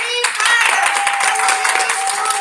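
Crowd at Greenbrier applauds, a continuous loud wash of clapping with cheering voices mixed in.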